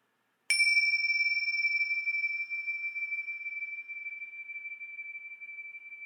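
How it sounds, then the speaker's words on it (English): A single bright strike on a set of chimes sounds during a home energy-clearing ritual: one sharp metallic ding, then a pure, sustained tone that rings on and slowly fades in an otherwise silent room. "we'll begin this simple ritual with my own set of chimes."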